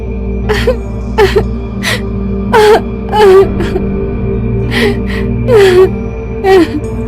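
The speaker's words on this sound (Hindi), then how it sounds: "उसे किसी लड़की के रोने की आवाज सुनाई देने लगती है।" A girl cries in repeated wailing, moaning sobs with sharp gasps between them, loud and close, as an eerie horror sound effect set against a low droning background.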